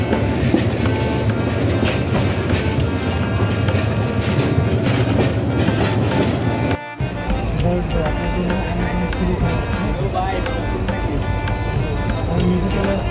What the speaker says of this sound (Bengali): এই যে ছেড়ে যাচ্ছে বাজিতপুর রেল স্টেশন।